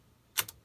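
A key on a mechanical calculator is pressed twice in quick succession, giving a pair of soft, close clacks in a quiet room.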